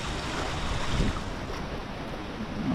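Water at Nippali dam rushes in a steady, broad roar, with wind buffeting the microphone outdoors and no speech.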